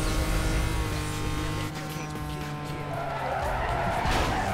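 An Audi TT skids sideways around a corner in Need for Speed Most Wanted, with a loud sustained tire squeal over a droning engine that fades into rough scraping as the car slides.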